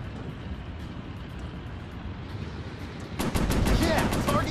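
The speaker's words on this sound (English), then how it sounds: "I have to shoot shorter bursts. I overheated. the machine guns." A WWII fighter plane's machine guns fire a short dense burst in the VR game War Planes, loud and close over steady engine drone after a stretch of engine noise alone.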